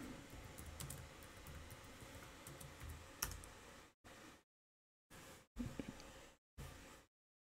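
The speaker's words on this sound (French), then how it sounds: "Donc là, je tape le mot de passe." Password being typed on a French-layout computer keyboard during a Linux Mint install, soft close key clicks in an irregular stream, broken by silent gaps later on.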